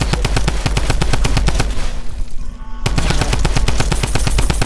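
Tommy gun in the Fortnite video game firing rapid loud bursts, a fast regular rattle of shots that pauses briefly midway before resuming, close and dominant.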